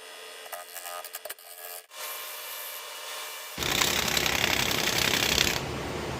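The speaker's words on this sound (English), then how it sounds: "All right, I'm going to sand it." Sanding a dense wooden root ball bowl on a wood lathe: scattered rubbing and scraping at first, then a loud, continuous broadband hiss of abrasive against spinning wood, close up.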